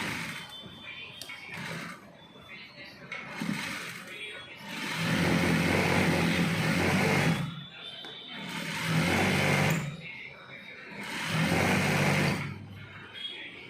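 A sewing machine runs a straight seam on a garment, three sustained whirring runs of about two seconds each with quieter pauses between, while a person talks throughout.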